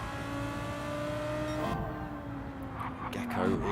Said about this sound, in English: There's Philo then in that Nissan hunting down the Lamborghini in front.